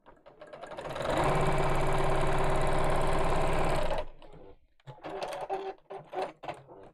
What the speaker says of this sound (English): just fold along the black line and sew along the blue line